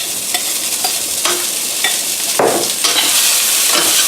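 Onions, mushrooms and basil sauté in a hot pan, a constant sizzle broken by repeated scraping strokes of a utensil stirring and tossing the vegetables, close and fairly loud with no talking.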